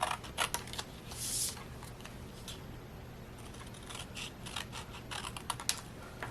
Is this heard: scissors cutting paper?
yes